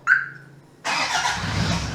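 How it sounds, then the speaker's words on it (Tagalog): A van's engine started by remote control turns over and catches after a short chirp, then settles into a steady, fairly loud idle close by, with no talking. "So pwede natin i-start through remote or cellphone yung sasakyan"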